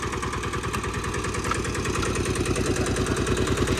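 A Kubota ZK8 diesel tractor engine runs steadily close by, its low chugging firing pulses repeating evenly throughout with no change in speed and no voices.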